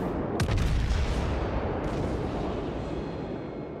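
Guns of the battleship Wyoming fire in World of Warships, a loud close blast followed by a long rumbling roar that slowly fades, with a second sharp burst partway through.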